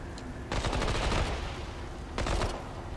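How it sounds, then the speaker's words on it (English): SMG fire in the shooter game Remnant 2, two rapid automatic bursts close and loud, the first lasting about a second and the second shorter, over a constant background hum. "SMG."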